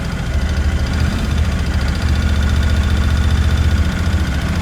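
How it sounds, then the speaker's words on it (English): A Royal Enfield Interceptor 650 motorcycle engine idles steadily up close after a cold start, a loud, even low thrum with a faint knocking pulse throughout. "Let's let it idle for some time so that the bike can move its liquids"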